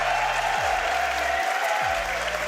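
Crowd applause at the RLCS Copenhagen Major 2024 Rocket League championship in an intimate indoor arena, a steady dense roar of clapping and cheering with a low hum beneath and no voices standing out.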